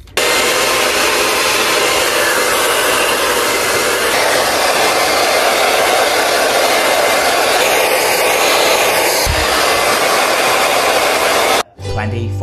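A hair dryer blows continuously and loudly while drying freshly colored hair at home, and the steady whoosh cuts off abruptly near the end.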